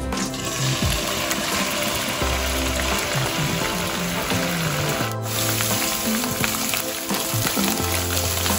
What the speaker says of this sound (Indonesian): Kita panaskan sedikit minyak, kemudian kita akan goreng